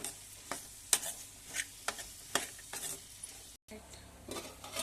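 Ivy gourd fries in a pan while a spatula stirs it, giving repeated sharp scrapes and clinks about every half second over a steady close sizzle, with a brief gap of silence near the end.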